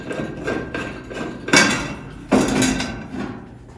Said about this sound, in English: Carefully remove your cover panel.